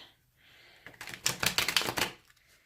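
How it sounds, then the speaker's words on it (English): A quick burst of crisp, rapid riffling clicks, a thick, stiff tarot deck shuffled and rattling close up for about a second after a faint hiss. "I'll just give you a little shuffle example."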